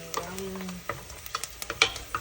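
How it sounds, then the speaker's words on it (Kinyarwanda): Small dried indagara fish crackle and sizzle in a hot pan, with a brief steady tone at the start and then sharp popping bursts as the fish are stirred. "rero ngiye gukaranga"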